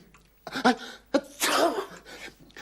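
A single close, loud sneeze from a man in a French cartoon: a quick sharp intake of breath followed by the explosive burst.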